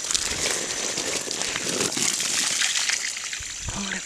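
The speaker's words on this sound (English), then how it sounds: "I'll go ahead and put the hose in here." A garden hose runs water onto lima beans in a no-dig organic garden, a steady close trickle and splash that holds for the whole span without talk.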